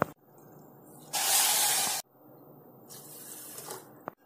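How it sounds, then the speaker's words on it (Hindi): Water is poured from a vessel onto 2 cups of sugar in a pan to make sugar syrup for malpua, giving one steady close rush of hissing liquid for under a second, then a quieter trickle. "अब इसमें हम पानी ऐड करेंगे"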